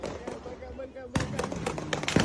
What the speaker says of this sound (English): Firecrackers! Firecrackers!